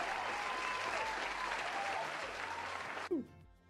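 Applause from a crowd at a livestreamed D&D homebrew review, dense and steady for about three seconds before cutting off abruptly, with a short burst of a voice at the end.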